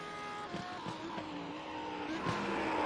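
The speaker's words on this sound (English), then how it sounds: "Jamming on the brakes." Lamborghini Super Trofeo race car braking hard at Autodromo Jose Carlos Pace, engine note dropping with tonal whine and brief tire squeal bursts, steady and fairly loud throughout.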